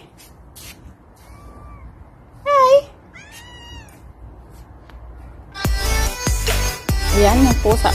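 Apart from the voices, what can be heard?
pet cat meowing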